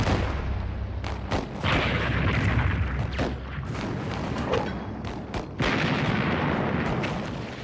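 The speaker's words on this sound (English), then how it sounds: "Assaulting the communists with tanks and artillery, Ridgway began driving them back" Artillery and tank fire during a Korean War offensive against communist forces, a dense barrage of loud booms and sharp blasts overlapping in rapid irregular succession with a constant rumbling background.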